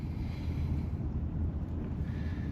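A car rolls along slowly with the clutch held down during a low-speed tyre test, giving a steady, close, low rumble of road and wind noise with no engine revving and no talking.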